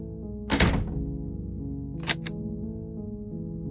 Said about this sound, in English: I heard the door slam.